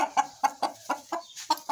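A giant Indian rooster (galo índio) raised free-range clucks in a steady series of about eight short, close, moderately loud pulses, with no voices.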